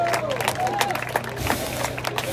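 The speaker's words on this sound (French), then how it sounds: "je vous propose de l'applaudir, Mr. Gloomy, pour son premier vol en France" An outdoor crowd at the Grand Est Mondial Air Ballons event applauds and cheers as a hot-air balloon makes its first flight in France, steady clapping with scattered shouts and a low hum beneath.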